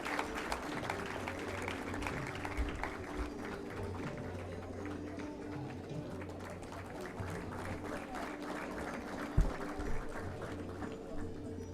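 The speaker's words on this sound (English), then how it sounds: "May we have a huge round of applause?" Faint, continuous clapping from a crowd carries on throughout, distant and even, with a low hum underneath.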